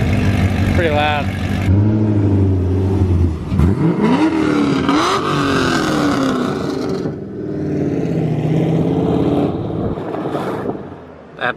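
Loud, raspy revs from a straight-piped widebody Corvette C6 sit close to the microphone: a quick blip, then a longer rise and fall in engine pitch before it settles back toward idle, with some voices nearby.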